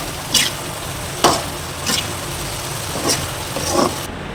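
Shrimp gravy sizzles steadily in a pan while a spoon stirs it, with several sharp scraping strokes against the pan at irregular intervals over the constant frying hiss.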